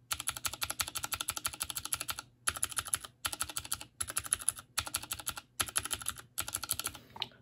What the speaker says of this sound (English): Kailh box click, stock MX Blue, and lube Cherry MX Blue spring only